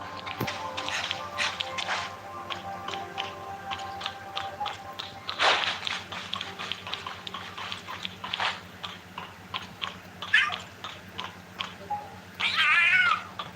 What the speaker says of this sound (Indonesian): Wih, ada suara kucing.